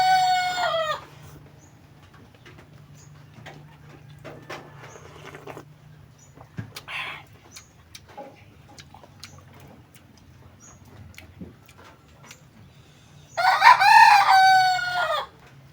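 A rooster crows loudly twice, once at the start and again near the end, with a quiet stretch of faint background noise and clucks between.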